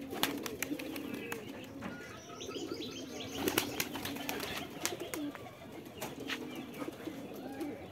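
Native pigeons on an open rooftop loft: repeated bursts of wing flapping close by, with soft cooing and occasional chirps over a steady low background, no talking.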